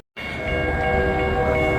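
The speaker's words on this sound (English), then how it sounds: "It's train time." A loud, sustained train horn blares over the deep rumble of a passing train, starting abruptly and holding steady, in high winds.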